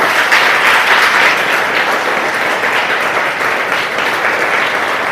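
Steady applause from a gathered audience at a training-course closing ceremony, honouring the bus cleaner, driver and support staff; dense, even clapping fills the room for the whole stretch without any voices.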